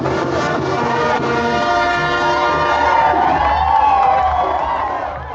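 A festival crowd at the Day of the Dead in Oaxaca cheers and shouts loudly in a dense, sustained roar, with high voices and a horn-like tone rising above the noise.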